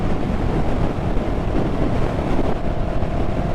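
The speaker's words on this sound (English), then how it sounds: "And I will say this wind is on it today." Wind buffets a microphone on a moving motorcycle, a loud, steady low rumble and roar with gusty texture throughout.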